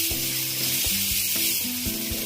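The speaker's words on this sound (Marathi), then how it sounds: "थोडंसं तळून घ्यायचं, ह्याच्यात असं फ्राय करून घ्यायचं।" Cashew pieces fry in a pan for mango sheera, giving a constant bright close sizzle broken by a few soft stirring knocks, with no voices.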